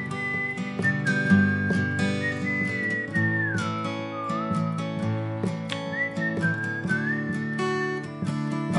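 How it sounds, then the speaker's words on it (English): Someone whistles a gliding, sustained melody over strummed guitar chords in standard tuning, the tune sliding smoothly between notes throughout. "get their attention before you bring in the whistling"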